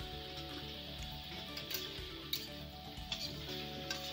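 Shukto vegetables being stirred in a pan give a soft sizzle with scattered light clicks and scrapes, faint and close.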